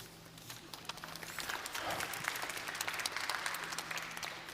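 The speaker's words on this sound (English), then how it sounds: "Applause." Audience applause at a global tourism resilience forum, steady clapping from a crowd filling the whole moment at moderate, somewhat distant level without any voice over it.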